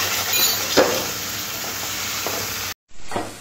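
Ground mustard and green chilli paste sizzling and frying in hot oil in a pan, a steady loud hiss with an occasional stir, broken by a brief dropout near the end; no talking.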